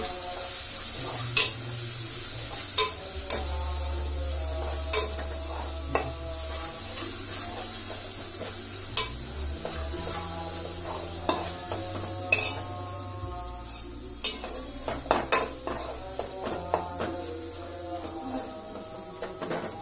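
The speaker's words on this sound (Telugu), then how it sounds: "కలుపుకోండి అల్లం పేస్ట్" Ginger paste being stirred in a frying pan while cooking chicken curry, with a soft steady sizzle under repeated sharp clinks of a metal spoon against the pan, close and irregular.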